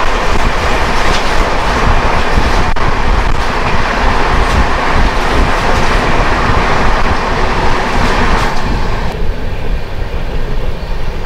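Train 12718, the Vijayawada–Visakhapatnam Ratnachal Superfast Express, rushes past at close range near Samalkot Junction in Andhra Pradesh, a loud continuous roar of wheels and carriages with steady clickety-clack over the rails, alone without voices.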